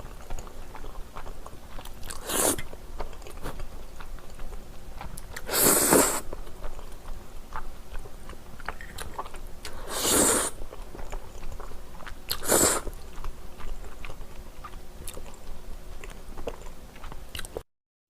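Crunchy food bitten up close, with four loud, crisp crunches spaced a few seconds apart and quieter chewing between them.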